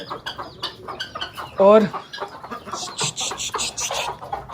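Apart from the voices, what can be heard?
chickens clucking while eating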